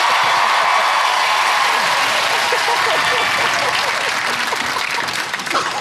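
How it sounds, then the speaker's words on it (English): Studio audience applause for two performers on a TV singing show, a loud sustained burst of clapping with some cheering that carries through and dips at the end. "let's have a round of applause for them"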